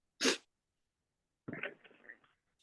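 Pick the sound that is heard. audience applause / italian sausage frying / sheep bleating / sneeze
sneeze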